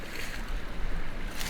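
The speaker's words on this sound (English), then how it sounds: "Sure do gotta appreciate a creek, a good creek, especially one that has little boulders and moss all over it like this one." Water flowing in a mossy creek strewn with little boulders, a continuous close rushing wash with no voices.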